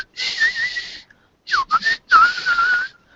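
A storyteller whistles softly to imitate a character, a fantasy figure cutting and chopping away in a dark tabletop one-shot; three breathy whistled phrases with sliding pitch, separated by short pauses, heard alone and close.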